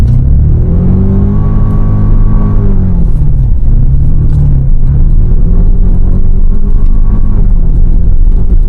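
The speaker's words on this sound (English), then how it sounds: "Toyota really allows this truck to rev out gears." A 2024 Toyota Tacoma TRD Pro pickup with traction control fully off revs loudly through its gears, the engine note climbing and dropping in repeated sweeps under steady rumble.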